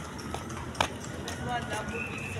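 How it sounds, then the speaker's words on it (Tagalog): Horses near the house of Jose Rizal, their hooves clip-clopping in a light irregular rhythm under a steady outdoor background, with one sharper knock standing out and people talking nearby. "May mga kabayo"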